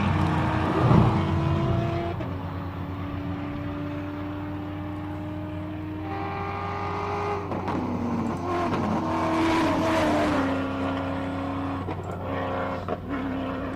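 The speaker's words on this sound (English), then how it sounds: "just listen to these monster rally raid vehicles" Monster rally raid vehicles racing at the Simola Hillclimb, engines droning loudly and shifting pitch as they climb and pass, a sustained roar at a distance without talk.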